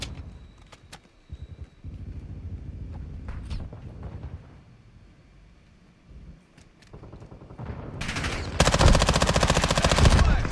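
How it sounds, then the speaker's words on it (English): Gunfight in Call of Duty Modern Warfare II, with scattered single shots and short bursts, then sustained loud machine gun fire that dominates the last seconds. "That's a ridiculous gunfight."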